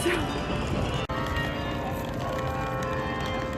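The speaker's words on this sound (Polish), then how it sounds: "A jak pięknie dzwony zaczęły bić." Church bells ring in the distance in Bruges, Belgium, a steady peal with ringing tones layered under outdoor ambience.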